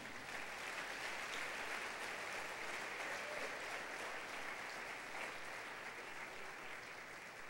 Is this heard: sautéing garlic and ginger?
no